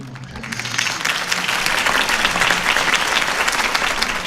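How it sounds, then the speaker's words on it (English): Crowd applause bursts out after a campaign speech for Harvey Dent in the Telltale Batman video game, dense steady clapping that swells and holds loud throughout. "could have heard that applause"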